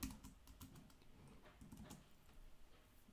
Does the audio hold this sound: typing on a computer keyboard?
yes